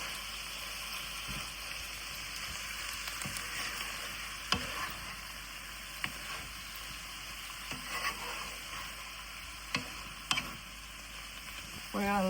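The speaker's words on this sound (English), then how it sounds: "And just let this saute for about 10 minutes so all the spices marry with all the other ingredients." Chicken, eggplant and spices sauté in a pan, a steady close sizzle and hiss running throughout, broken by occasional soft clicks and scrapes of stirring.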